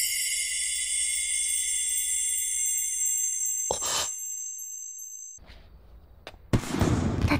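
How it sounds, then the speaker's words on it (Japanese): Fireworks at an anime festival scene go off after a bright sustained ringing tone fades, with a sharp burst, scattered crackles and then a loud, dense explosion near the end. "花火。"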